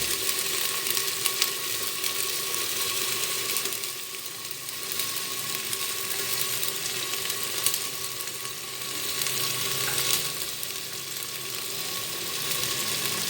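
Tomatoes fry in ginger-garlic paste in a pan for katwa pilao, giving a steady, close sizzle that runs the whole time with small rises and dips and no talk over it.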